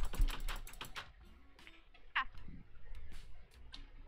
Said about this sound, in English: I heard aggressive clicking noises